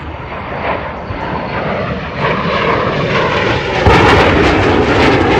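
U.S. Navy Blue Angels jet flying at the Thunder Over Michigan 2022 air show, a loud roaring engine rush that swells steadily and grows louder toward the end as it passes close.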